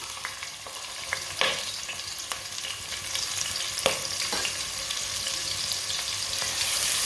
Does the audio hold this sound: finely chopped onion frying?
yes